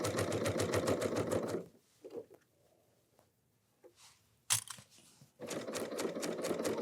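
A sewing machine runs in loud, steady bursts while stitching along the edge of a ruffle pillow with a zigzag stitch, pausing midway for a few soft handling noises and clicks before whirring again.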